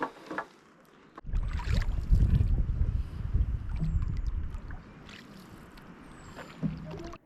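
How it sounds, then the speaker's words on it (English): A canoe paddles across a small pond-like lake on a Lake Superior route, with a steady close rush and swish of water and hull noise, light wind, and a few faint splashes near the end. "So we're paddling up to our last portage"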